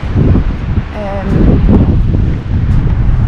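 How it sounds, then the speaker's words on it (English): Heavy wind gusting around 50 mph buffets the microphone in strong, roaring gusts by a choppy sea on the Cape Wrath Trail in Scotland, with a voice talking intermittently underneath the rushing noise. "It's probably about 50 mile an hour gusts"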